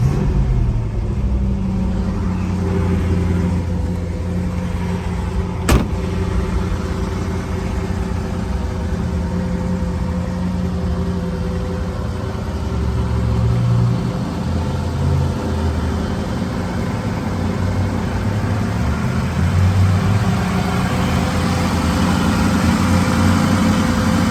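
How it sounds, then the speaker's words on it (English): A 1968 Ford Mustang R Code Cobra Jet with a 4-speed and 4.30 gearing idles cold with the choke on, a steady deep rumbling engine note with a brief click and slight variations in pitch, close and alone. "You can hear the engine very good, the trans."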